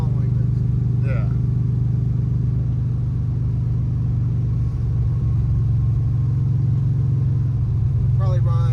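LS-swapped 1995 Chevy S10 street truck cruising with a steady low engine drone and exhaust rumble throughout, heard from close by, with a few brief voices over it.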